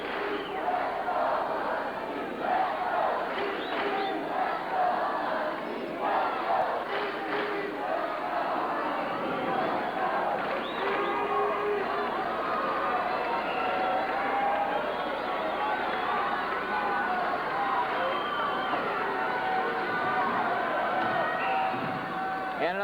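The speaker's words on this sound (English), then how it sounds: "the crowd, as they're trying to get into this game" A crowd at a 1986 junior hockey national championship game between the Sioux City Musketeers and the St. Clair Shores Falcons, a steady murmur of arena noise with scattered shouts. It runs continuously underneath a commentator's voice.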